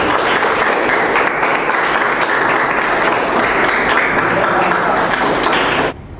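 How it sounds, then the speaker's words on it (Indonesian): Loud, dense classroom applause from students clapping together for about six seconds, then cutting off abruptly, at a school in an Indonesian-language lesson. "Tepuk tangannya buat Ken."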